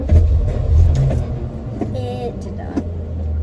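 An abandoned Plymouth Fury's engine turns over and catches on a cold start, a low rumbling idle that surges and then settles, heard up close with a brief voice in the middle.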